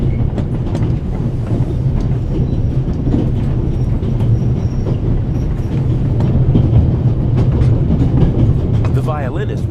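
A passenger train in the video game The Raven Remastered runs on the line near Zurich, bound for Venice. Its deep rumble and rhythmic clatter of the wheels stay loud and steady, with faint voices underneath.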